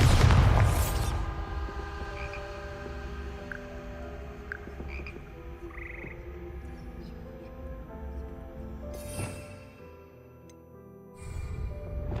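A Bombarda spell explosion in Hogwarts Legacy bursts with a loud low boom at the start, then decays into a long rumbling tail with faint tonal chimes, and a second thump near the end.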